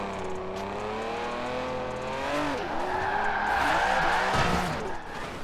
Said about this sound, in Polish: Widzieliście jaki drift?